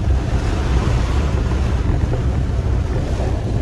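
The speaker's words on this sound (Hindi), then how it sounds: "दरिया ही की तरह वो लहरें बन रही हैं" Monsoon floodwater churns into waves, a loud continuous roar of surging water mixed with heavy wind buffeting the microphone, with no voices.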